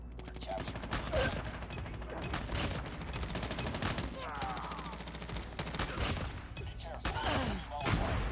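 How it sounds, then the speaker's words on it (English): Rapid shotgun blasts from a BY15 in Call of Duty Mobile crack through a busy firefight, with repeated close shots over a dense wash of gunfire and game noise and a voice talking in places. "Bro, this shotgun build is nasty"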